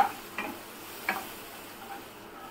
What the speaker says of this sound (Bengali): মশলার মধ্যে জল দিয়ে দিলাম।